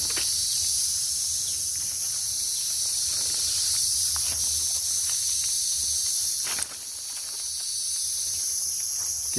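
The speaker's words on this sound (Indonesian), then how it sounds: "Derik belalang itu semakin jelas." A grasshopper chirps in a steady, high-pitched drone near a sacred spring in Bojonegoro, continuous and fairly close, with a brief dip partway through and no talk.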